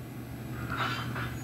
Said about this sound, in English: Brakes squeal,